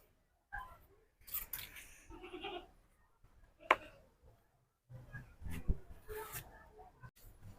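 Goats bleat on a sunny riverside farm, a few short, faint calls at moderate distance mixed with scattered rustling and clicking handling noises.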